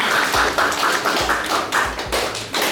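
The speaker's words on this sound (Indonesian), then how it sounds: "Tepuk tangan lagi dong sekali lagi untuk film." Audience clapping fills the room after a screening of The 400 Blows at a French film festival, a steady close patter of many hands with a few heavier thumps and no talk.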